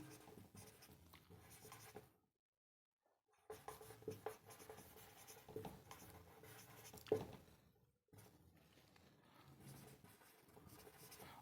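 A pen writing on paper during a handwritten maths lesson on rational numbers and integers, with bursts of scratchy strokes separated by short pauses, fairly close and quiet.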